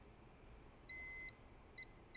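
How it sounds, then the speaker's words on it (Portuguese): A multimeter's continuity tester beeps while probing pads on a Redmi 13c phone board, giving one long steady tone followed by two quick short beeps, faint against quiet background hiss. "vejam aqui, ó, tá bipando"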